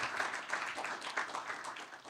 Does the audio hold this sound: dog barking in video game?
no